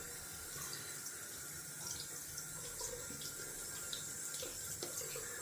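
Tap water running steadily into a sink while a synthetic shaving brush is lathered, a continuous close splashing rush with no talking.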